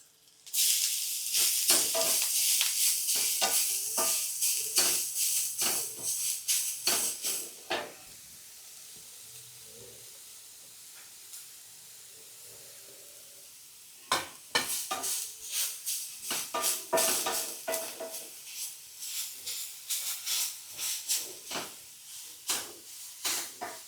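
Grated beetroot frying in a little oil, a bright crackling sizzle with rhythmic stirring scrapes, loud at first, dropping to a quiet hiss midway, then returning with renewed stirring.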